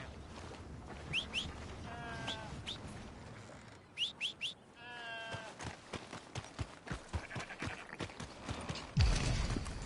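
Horse hooves clip-clopping in Red Dead Redemption 2, a steady run of close, sharp hoof strikes under birdsong and chirping, ending in a louder thump.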